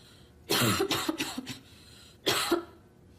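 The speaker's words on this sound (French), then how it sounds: "Toussez fort." A short run of four harsh coughs in quick succession during a doctor's examination, then a pause and one more forceful cough, close to the listener.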